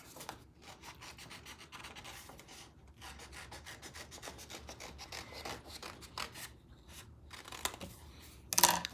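Scissors snipping and rasping through paper card while cutting around an Easter bunny shape, a close, continuous run of short cuts and rubbing with no talking.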